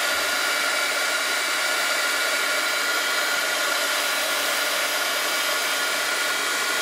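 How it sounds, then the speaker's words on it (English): An old heat gun blowing hot air for stamp embossing, a steady, even, loud whooshing roar that holds unbroken from start to finish with no talk. "so let's get our heat gun and pray for me, you guys, while I do this"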